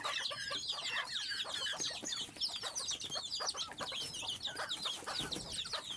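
Chickens and young chicks cluck and chatter continuously in a busy, close flock, many overlapping calls with no pauses throughout.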